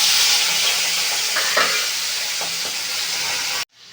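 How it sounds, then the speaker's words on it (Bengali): Large prawns frying in hot oil in a wok give a steady, loud sizzle throughout, with a few brief stirring scrapes in the middle, then the sound cuts off abruptly near the end. "তেলটা গরম হয়ে গেছে, এবার মাছগুলোকে ভেজে নেব।"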